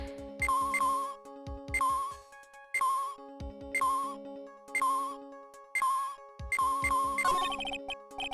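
A cell phone in the courtroom adventure game Phoenix Wright: Ace Attorney plays a bright chiptune ringtone, a repeating melodic jingle in evenly spaced bursts with short gaps, clear and close with no speech.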